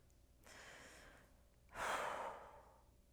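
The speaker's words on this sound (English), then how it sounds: "Take a deep breath" Two breaths close to the mic, a softer inhale and then a louder, deeper breath that swells and fades, with no talking.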